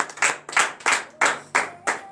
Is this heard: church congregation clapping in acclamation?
yes